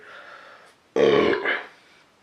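A loud, deep burp rumbles close up for under a second, following a brief softer breathy noise.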